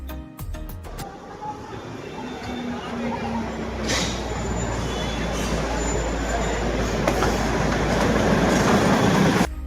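Train at Ghum railway station in Darjeeling, with a steady low rumble and rolling rail noise building gradually, a few sharp clanks near the start, and voices talking faintly underneath.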